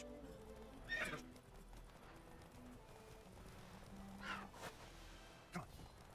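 Geralt's horse Roach in The Witcher 3 gives a few soft, fairly faint whinnies between quiet hoof clip-clops, with one sharper snort near the end.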